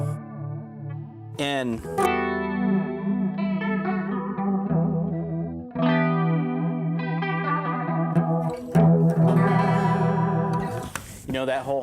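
Electric guitar played through a Keeley DarkSide V2 pedal with the expression pedal rolled in, giving a warbling underwater modulation with chorus-like swirl over sustained chords and picked notes, loud and continuous, with a brief spoken word near the start.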